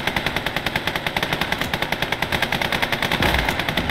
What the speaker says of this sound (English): these are MG, those machine guns anyway